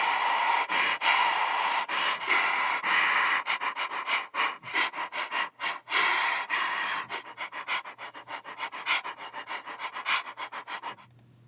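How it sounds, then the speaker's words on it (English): Rhythmic breathing sample played in double time, a fast run of close, breathy sniffs and pants pulsing steadily, fairly loud and with no talk. "There are just 5 banks of patterns for breathing."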